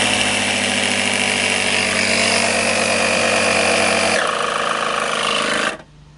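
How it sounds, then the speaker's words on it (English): Air compressor set to 40 psi running loud and steady with a constant mechanical hum and drone while pressurizing a Hynautic H50 helm for bleeding, then shutting off abruptly near the end. "I got my compressor set to 40 pounds"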